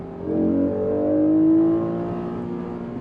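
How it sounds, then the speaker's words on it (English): An Acura NSX's 3-liter V6 droning steadily from inside the cabin with the windows up, a muffled low growl that swells slightly then holds at a 60 mph cruise. "Even with the window up inside the car, it literally sounds this good, dude. Listen."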